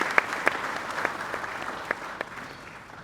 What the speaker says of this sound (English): I think we deserve an applause for that